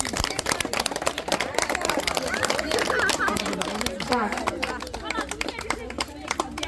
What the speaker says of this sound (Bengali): হাততালি মারো, হাততালি মারো